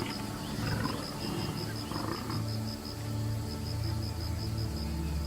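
A lion roars across African grasslands, a deep, rumbling roar with several heavy pulses that carries loud over a constant wild outdoor background.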